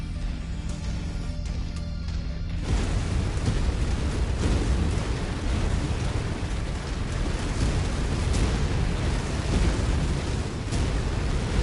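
Buildings being destroyed by a giant mech in MechWarrior 5: Mercenaries, a heavy rumbling roar of explosions and collapsing debris that swells after a quieter start and stays dense, loud and continuous.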